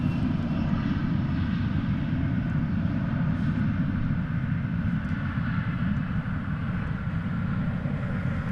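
An airplane taxiing at DFW Airport toward a cargo bay, a steady low engine rumble and roar holding at even strength throughout, fairly close, with no talking.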